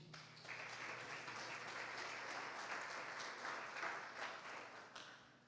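Church congregation applauding together, a steady wash of many hands clapping at moderate, somewhat distant volume, sustained evenly throughout with a low hum beneath.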